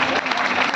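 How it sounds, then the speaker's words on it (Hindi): Loud, steady audience applause for Pankaj at a Guru Purnima gathering in the Ved Mandir at Mathura, dense clapping throughout without a break. "एक बार पंकज के लिए जोरदार ताली बजाओ"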